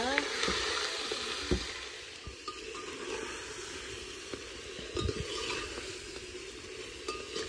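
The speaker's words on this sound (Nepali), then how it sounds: "यहाँ चाहिँ भर्खरै भुट्ने हुँदैछ" Local village chicken fries in a pan with a steady close sizzle, broken by stirring scrapes and the odd clink of a utensil against metal.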